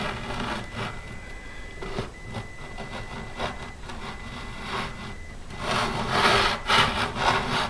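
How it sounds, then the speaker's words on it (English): A hand saw cuts through wood during a Washburn acoustic guitar repair, with close, steady back-and-forth rasping strokes that grow louder and more vigorous toward the end. "just start sawing next to this thing like so"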